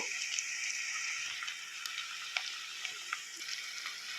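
Onions, curry leaves, cumin and fenugreek sizzle in hot oil with a bright, steady hiss and scattered small pops, close and continuous, with no voices.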